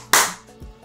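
A single sharp hand clap, close and bright, with a short decaying tail and a faint bump just after, heard alone.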